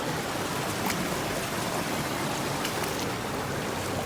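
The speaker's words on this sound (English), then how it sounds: "We are still walking through these waters." Water splashes and rushes around someone wading through a shallow river below a waterfall in Rancho Peñasquitos, a steady broad wash with occasional sharper splashes, fairly faint and without talk.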